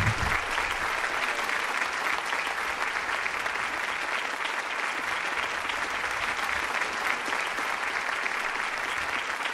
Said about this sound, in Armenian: Տիկնայք և պարոնայք, եկեք ծափահարենք Ջուլիեն Լուսենգեին